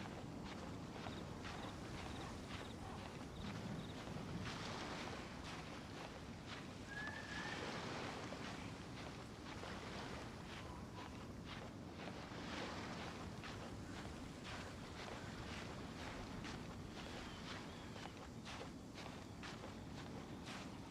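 Calm ocean waves wash past a boat sailing in the video game Genshin Impact, a soft, steady surf with a light breeze that stays faint and unbroken throughout, with no talking.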